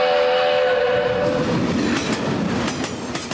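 Loud, close train sound effect with a sustained horn blast at the start giving way to rumbling, clattering wheels on rails, with no voices over it.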